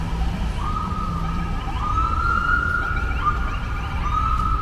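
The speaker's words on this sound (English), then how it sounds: "that outlier ambulance rushing off now" A wailing ambulance siren sweeps up and down in pitch over steady Manhattan street traffic rumble, sounding moderately distant and continuous throughout.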